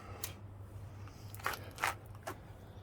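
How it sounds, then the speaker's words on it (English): Side cutters snipping through an e-bike brake cable, a few sharp close clicks and crunches spaced about half a second apart over a low steady hum. "So you're gonna need a set of side cutters and to cut that cable,"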